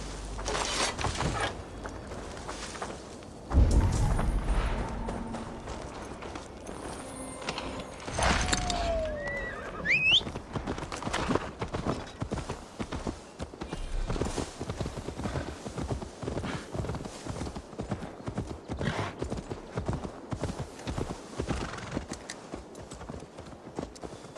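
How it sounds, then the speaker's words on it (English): Steady clip-clop of horse hooves throughout, with a loud whinny near the middle, over a busy soundscape from the video game Assassin's Creed Valhalla with faint background voices. "Now to deliver Magni his horse."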